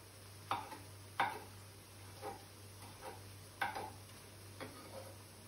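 A knife chops a deseeded chili pepper on a board, giving sparse, light taps at an uneven pace, about seven strikes. The taps are faint against a steady low kitchen hum, with no talking.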